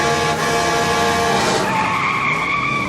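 Tires skid hard as a truck swerves in the horror film Jeepers Creepers, a loud sustained screech with engine roar that shifts pitch midway, no voices.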